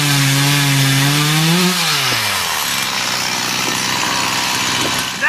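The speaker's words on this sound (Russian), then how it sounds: "Пусть он пилит дерево" Wood being sawn by hand, opening with a sliding tonal note before a steady, continuous rasping that fills the rest of the clip at a fairly loud, even level, with no talking.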